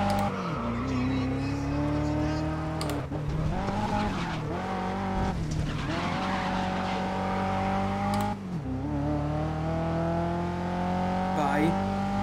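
A race car in the video game GRID 2019 drones loudly through a tight race, engine pitch repeatedly dipping and climbing as it bogs in second gear, with brief tyre squeals and breaks in the sustained roar.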